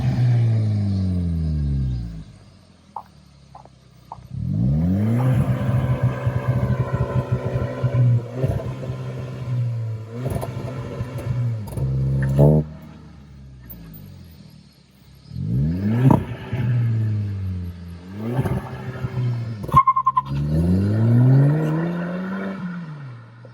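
An Audi A3 sedan engine revving hard through a MARVIN quad-outlet muffler, rising and falling in several loud bursts with deep rumbling idle between them.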